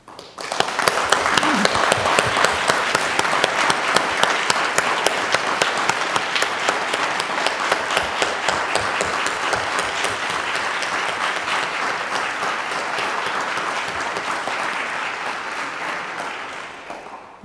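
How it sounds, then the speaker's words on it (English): A graduation ceremony audience at a master's degree commencement applauds in sustained, dense clapping that holds steady for many seconds before tapering off at the end. "Please give the people who supported you throughout your education a round of applause."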